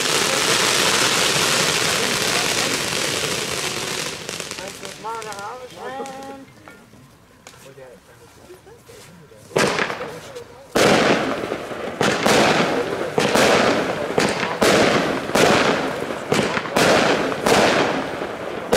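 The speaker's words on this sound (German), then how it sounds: "480 Gramm knapp, die 33-Schuss-Batterie Zyklon" A long hissing fuse burn and whistling effects give way to a 33-shot Weco Zyklon fireworks battery, about 480 grams, cracking sharp bursts one after another, with a voice audible at times.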